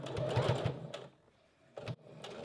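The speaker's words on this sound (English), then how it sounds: "I'm going to sew quite close to the edge of the back closure" Sewing machine running stitches along the edge of a bra back closure, two close bursts of steady motor whir with a pause before a brief final run.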